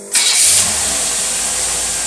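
Marine boat engine fitted with a Holley carburetor cranking and catching, then settling into a loud, steady, close-up running roar.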